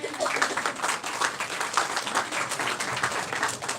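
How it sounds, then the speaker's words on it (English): An audience at a Startup Tamizh women's empowerment event claps steadily for a speaker, a dense, even patter of many hands sustained for a few seconds without a break. "big round of applause for ma'am"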